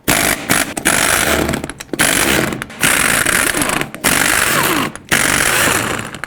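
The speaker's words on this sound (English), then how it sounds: "remove all 6 of your 22mm lug nuts" An impact wrench spins the 22mm lug nuts off a 1999-2007 GMC Sierra wheel in several loud, close bursts, each separated by a brief silence.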